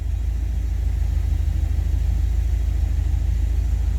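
A car engine idles at about 900 RPM, a steady low rumble with an even pulsing throb, close and constant throughout with no other sounds.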